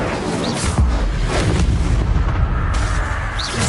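The Incendio fire spell bursts in Hogwarts Legacy combat as a loud, dense roar of booming, crackling magic and effects, continuous and close for several seconds.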